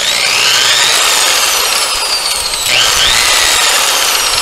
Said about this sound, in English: So as I say, this is the grinder. This one is a nice model, has adjustable speed.